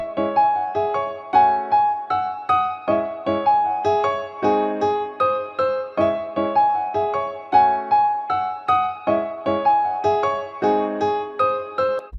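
A staccato piano melody in a clean Japanese pop preset on Arturia Piano V5 plays on its own, with short, evenly spaced plucked notes in a bouncy rhythm.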